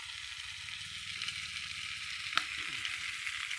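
Pieces of meat sizzle steadily in a hot pan over a gas flame, a continuous bright hiss broken by one sharp utensil knock as the meat is stirred.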